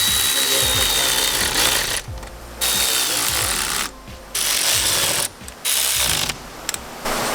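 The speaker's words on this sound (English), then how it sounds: "just to make sure it's nice and tight, hit it with the wrench." A ratchet wrench snugs down an intercooler bypass valve hose fitting on a 2017 Subaru WRX STI, its quick pawl clicking coming in several loud, close bursts separated by short quiet gaps.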